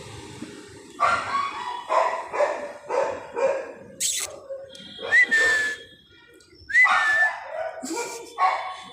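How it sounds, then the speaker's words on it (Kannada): A dog barks repeatedly in short bursts, alternating with whistling calls, fairly close and clear. "ಕರೆದ್ರೆ ಬೊಗಳ್ತಿದ್ದಾನೆ ಅವನು."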